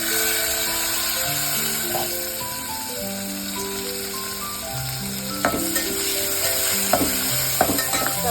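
Onion and tomato fry in a pan for sambar, a steady close sizzle with a few sharp stirring clinks of a spoon, over faint background music.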